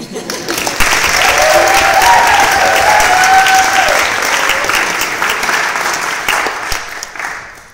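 Debate audience breaks into a full round of applause, dense steady clapping that swells and holds for several seconds before tapering off, with a few voices faintly underneath.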